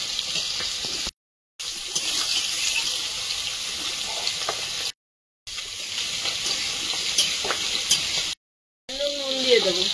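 Pui shak stems and carrot frying in a pan give a steady, close sizzle and crackle, broken by three short silent gaps, with a few light clinks near the end.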